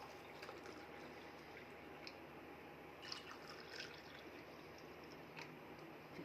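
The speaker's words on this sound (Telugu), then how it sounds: "జ్యూస్ పోసేసుకుందాం" Watermelon juice with soaked basil seeds poured into glasses, a quiet continuous liquid trickle and pour with faint dripping, heard close and low in level with no talk.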